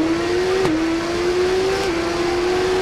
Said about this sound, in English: The bikes sound decent, and I love the backfire sound when you shift.